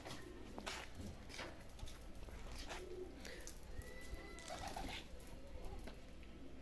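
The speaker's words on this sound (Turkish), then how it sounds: "Taklacı kuşlar bunlar." Tumbler pigeons cooing softly amid a busy background of bird sounds, with occasional rustling and faint movement noises, fairly quiet and distant.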